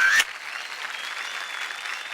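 A TV show audience gives sustained, even applause, a dense wash of clapping with no voices over it, following a brief musical stinger at the start.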